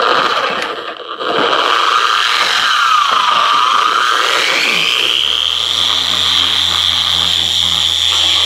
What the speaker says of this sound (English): put the old buffer wheel on there